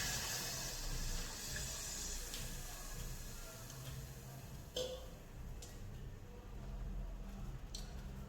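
Two cups of water pour steadily into a cooking pot, a continuous close splashing rush with a few small clinks partway through.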